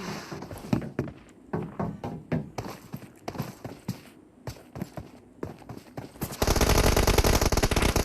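Rapid automatic gunfire from a team deathmatch shooter game, bursts of sharp shots in quick rhythm, then a dense sustained roar of firing near the end, loud and up close with no talk.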